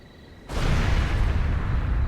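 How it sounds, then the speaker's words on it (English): A sudden explosion at a villa in the video game Trails through Daybreak II, a loud broadband blast that bursts in abruptly and sustains as a rumbling roar to the end. "What was that explosion?"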